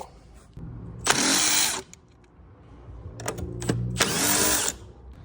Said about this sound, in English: Going to undo these two 13s on the airbox